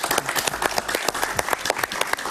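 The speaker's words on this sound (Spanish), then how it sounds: "Un aplauso para él, por favor." Studio audience applause on a TV talk show, a dense burst of many hands clapping quickly and steadily, close and lively, heard alone with no speech.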